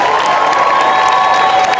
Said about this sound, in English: please give a big shout and applause for our white bat crew